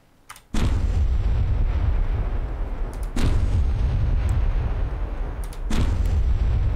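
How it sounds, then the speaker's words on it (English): Three heavy thunder gun cannon blasts from the From The Depths advanced cannon, each a sudden boom trailing into a long, deep rumble like distant thunder, spaced a few seconds apart and loud throughout. "from 250 all the way up to 278, we have the thunder gun"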